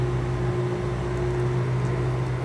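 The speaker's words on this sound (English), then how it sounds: "We got the generator going behind us." A generator drones steadily in the background at an outdoor garden, a constant loud broadband hum with low tonal components and no pauses.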